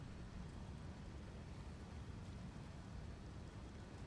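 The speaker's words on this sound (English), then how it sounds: "God damn it, it's raining." Steady rain pouring in a video game, a dense continuous low rush and hiss at an even level throughout with no other distinct sounds.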